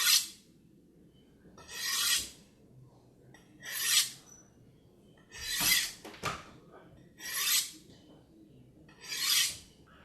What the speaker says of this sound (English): I'm going to strope it on the rod a few times just to get the edge how I want it